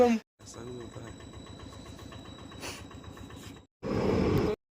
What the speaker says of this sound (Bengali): ট্রেন চলে গেল। এই ট্রেনটার জন্য আমাদের অপেক্ষা করতে হলো, তাও খুব আস্তে আস্তে যাচ্ছে।